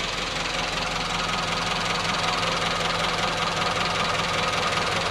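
Classic Mini Clubman engine idling, a steady loud mechanical drone with a low rhythmic knocking pulse throughout, close by and alone.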